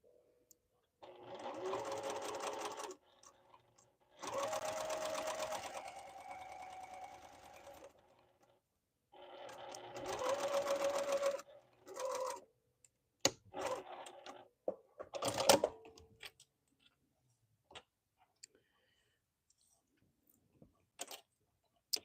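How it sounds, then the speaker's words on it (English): A sewing machine stitches hoodie pieces in several runs of steady mechanical whirring lasting a few seconds each, separated by pauses, with clicks and handling of fabric near the end. "I'm just sewing between the two marks."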